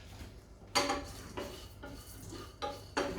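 A metal utensil scrapes and clinks against a pan as spices are dry roasted and stirred, four distinct clattering strokes at irregular intervals, close and clear, with no voices.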